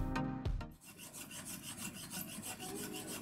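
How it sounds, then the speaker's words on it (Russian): A hand file rasping across a sawn workpiece clamped in a vise, steady rhythmic back-and-forth strokes, close and fairly quiet, following a brief clunk at the start. "подровняем последствия реза напильником в тисках"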